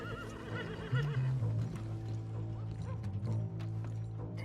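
A horse in Red Dead Redemption 2 lets out a loud whinny over the game's background sound, followed by snorting and shuffling hoofbeats, with no talk.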